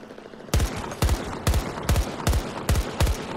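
Burst-fire weapon in Battlefield 2042 gameplay: seven loud, sharp shots in an even, evenly spaced rhythm, each with a booming low tail, heard up close with no talk.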